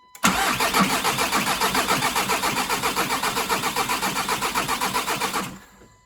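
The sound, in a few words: Audi car engine starting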